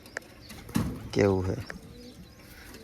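A wild pigeon held close gives a soft, throaty rolling coo in the middle of the clip, with brief chirps and a person speaking briefly nearby.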